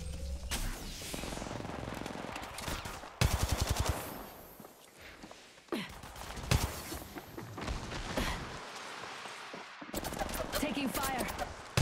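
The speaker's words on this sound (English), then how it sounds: "They're shooting at me!" Bursts of automatic gunfire in Apex Legends Mobile come in repeated loud volleys with brief pauses, mixed with game voice callouts and other combat effects.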